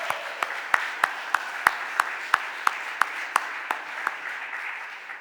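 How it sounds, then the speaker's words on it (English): Scattered, sharp hand claps ring out in a Philadelphia City Council chamber during a stated meeting, about a dozen distinct claps at a steady pace, gradually thinning out. "Y'all can clap, sorry."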